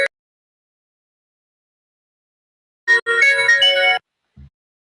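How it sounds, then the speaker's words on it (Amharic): An incoming call sets off a phone ringtone. One clear melodic burst sounds for about a second after silence, with brief faint clicks around it. "I think ስልክ እየገባበት ነው"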